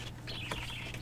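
A single corrupted bird call from the Harvest Moon DS game sounds as a short, strained, clucking squawk over a constant low electronic drone.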